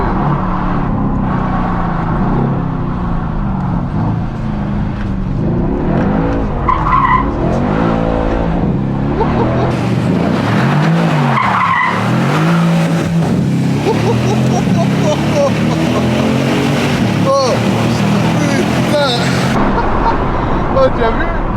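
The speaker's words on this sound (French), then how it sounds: "C'est vrai que la sonorité du moteur, elle est..." Car engine roars hard through continuous drifting, with tires skidding and squealing in long sweeping waves as the car slides through every bend; people talk over it throughout.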